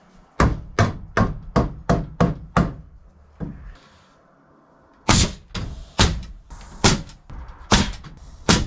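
Hammer strikes drive nails into wood framing during a wood shop remodel, two quick runs of sharp, close, loud blows in steady rhythm, split by a short quiet pause.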